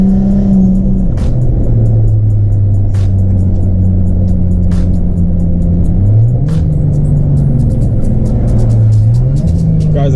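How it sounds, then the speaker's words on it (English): A turbocharged Nissan G35 cruises along, its loud steady engine drone shifting pitch with gear changes and throttle, close and continuous with faint clicks over it. "the car sounds amazing"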